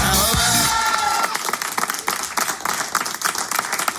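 A crowd applauds and cheers for a singer at a live event, with dense loud clapping and whoops that carry on through the whole stretch, a voice briefly heard at the start.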